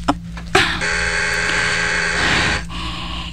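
A loud, continuous electric buzzer sounds for about two seconds, harsh and steady, preceded by a couple of brief knocks.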